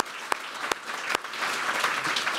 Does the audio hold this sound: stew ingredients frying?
no